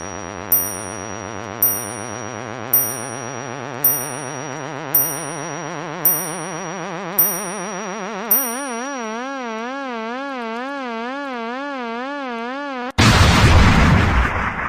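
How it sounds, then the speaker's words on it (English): A sonified supernova explosion of a 20-solar-mass star: a rising, wavering synthetic tone with regular bell-like dings gives way to a sudden loud, noisy burst at the end. "That was the supernova explosion at the end."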